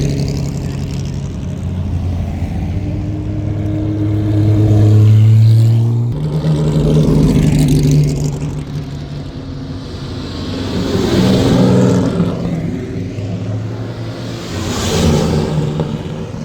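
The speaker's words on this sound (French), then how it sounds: "Et il y a des voitures qui reviennent des essais." Classic racing cars returning from practice at the Le Mans Classic pass by, engine drones rising and falling in several loud swells as each car approaches and recedes.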